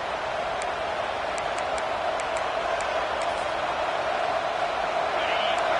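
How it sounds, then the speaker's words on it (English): Broad, steady roar of a packed football stadium crowd at a Michigan vs Oregon game, a dense continuous wash of noise with a few faint whistles above it, no talk in the foreground. "This crowd trying to make life miserable for this offense."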